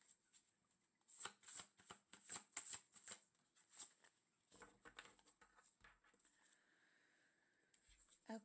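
A deck of tarot cards is shuffled, a quick run of crisp riffling flutters and taps up close, then softer sliding and settling of the cards.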